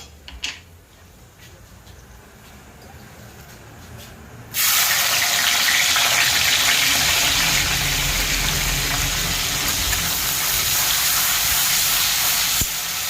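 Chopped onions dropped into hot oil tempered with bay leaf, whole cardamom and cinnamon, a quiet stretch then a sudden loud, dense hiss of frying that holds steady and close for several seconds.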